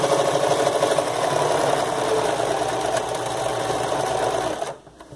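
A sewing machine runs steadily, stitching a gathered ruffle onto the hem of a patchwork skirt, with a continuous loud whir that stops abruptly near the end, and no talking.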